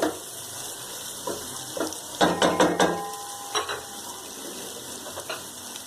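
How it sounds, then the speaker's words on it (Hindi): Tomatoes drop into fried masala in a pan for Hyderabadi tamatar gosht, setting off a burst of crackling sizzle and a few sharp clatters over a steady hiss, fairly close and without talk. "अब हम इसमें टमाटर ऐड कर देंगे"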